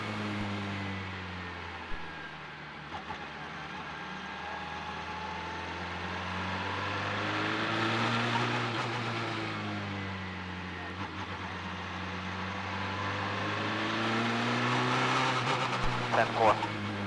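Mazda race car at the Belle Isle Grand Prix, engine droning and rising and falling as the throttle is blipped on manual downshifts, heard at a distance under a voice.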